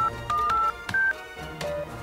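Keypad beeps ring out as a code is entered on a door lock, a quick series of distinct tonal presses with short gaps between them, close and clear over faint background noise.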